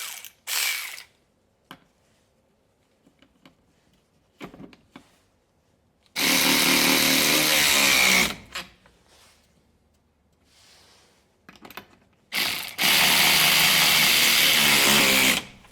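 Husky 12-volt 3/8 in. drive cordless ratchet driving bolts into pine, with two loud sustained whirring runs of about two and three seconds, separated by scattered clicks and handling noises, close to the mic.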